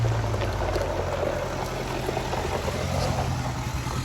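A diesel pickup in a diesel performance shop idles and rumbles low and steady, a mid-pitched engine drone filling the space at moderate distance with no voices, fitting a truck about to set off on a test drive.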